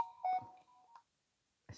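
Telephone beeping tones, a couple of short electronic beeps and a dial-style tone burst close by, separated by brief silence.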